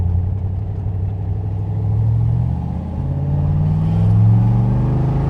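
A 1967 Chevrolet Corvette Stingray 427 tri-power convertible revs steadily through side pipes, swelling and easing in loudness with a throaty low exhaust note, close and continuous, no talking.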